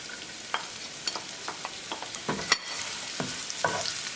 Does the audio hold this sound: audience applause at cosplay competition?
no